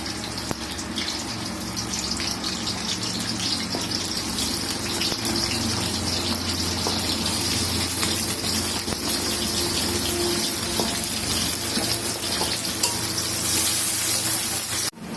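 Onion and chili fry in oil as a steady, dense hiss that runs throughout, close and constant with faint crackles, no speech.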